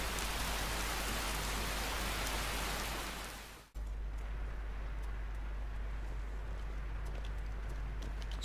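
Steady rain from a storm in the video game Skyrim hisses densely, then cuts off abruptly and drops to a softer, thinner patter of drops for the rest of the clip.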